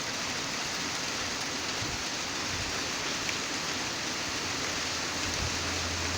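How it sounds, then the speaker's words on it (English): Hail pours down outdoors in Idaho in spring as a dense, steady roar of pellets striking the ground and surfaces, continuous and even throughout, with no voices. "Mega hailstorm coming down here."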